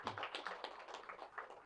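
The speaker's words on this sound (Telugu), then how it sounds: "వారికి కూడా ఒకసారి గట్టి క్లాప్స్ కొడతాం." Audience applause at a Pyramid inauguration gathering in Thorrur, a dense steady patter of many hands clapping at moderate volume, continuous for the whole short stretch with no voices over it.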